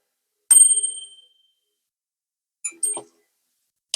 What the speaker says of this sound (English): I have to ring the bell.